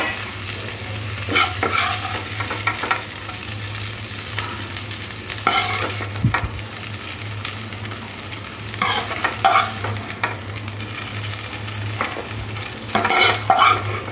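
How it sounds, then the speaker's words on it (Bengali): Prawns fry in oil in a pan and are stirred and lifted out, giving a steady sizzle with repeated scraping, clattering stirs near and fairly loud, and no voices. "চিংড়ি মাছগুলো ভাজা হয়ে গেছে, এবার উঠিয়ে নেব।"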